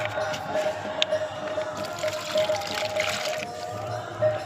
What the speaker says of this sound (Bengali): তো আর এখন একটু জল দিয়ে দেব